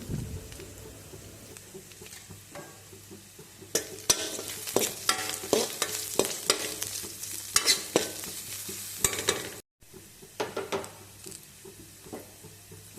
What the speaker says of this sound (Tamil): அடுத்து கருவேப்பிலை கொஞ்சம் போட்டுக்கலாம்.